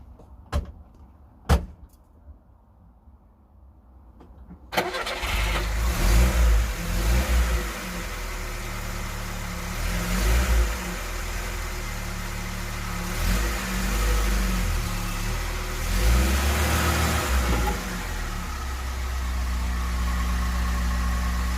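A Lada car is heard up close: two sharp clicks or door clunks, then the engine cranks and catches, running with a medium-pitched drone and repeated revs rising and falling for a sustained stretch, with no talking.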